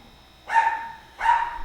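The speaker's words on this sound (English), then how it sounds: "I got my dog barking for some reason." Two short dog barks, close by and fairly loud, separated by a brief pause with quiet in between.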